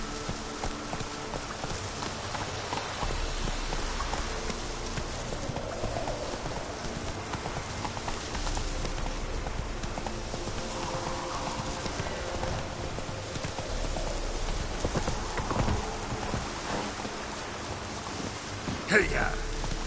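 Roach the horse in The Witcher 3 trotting through rain, a steady clip-clop of hooves over a constant wash of rainfall, with a brief voice near the end.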